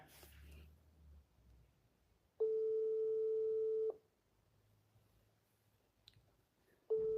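An unanswered video call's steady electronic ringing tone sounds for about a second and a half, then silence, then it starts again, repeating with faint background noise between.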